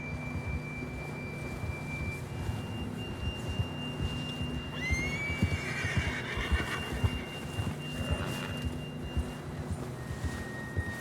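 A horse in the video game Red Dead Redemption 2 gives one loud whinny midway, over soft hoof clip-clops, a low steady hum and thin sustained tones.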